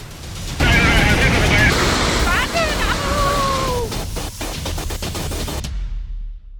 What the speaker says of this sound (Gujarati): આજે સવારે 9 વાગે નેપાળની નદીમાં ધસમસતો પ્રવાહ આવ્યો। એ પ્રવાહની ગર્જના કેવી હતી એ પહેલા સાંભળો